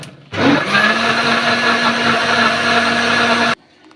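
A kitchen mixer grinder whirs loudly at a steady pitch while blending Oreo biscuits, starting abruptly, running evenly for about three seconds, then cutting off sharply with no talk over it.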